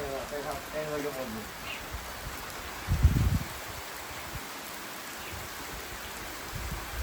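Rain falls outdoors as a soft, steady patter with faint rustling, interrupted by a short louder thump near the middle; distant voices briefly surface early on.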